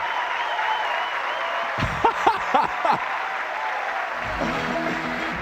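A large crowd at the 2000 Miss Florida USA pageant finale applauds and cheers in a sustained roar, with someone speaking loudly over it partway through.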